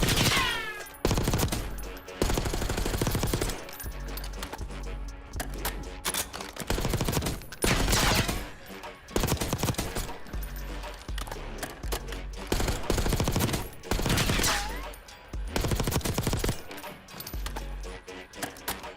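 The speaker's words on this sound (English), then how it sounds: "I'm just kind of shooting in the shooting range" Rapid bursts of automatic gunfire in a Call of Duty Warzone shooting range, loud and close, firing in repeated volleys with brief pauses between, plus faint clinks like shell casings.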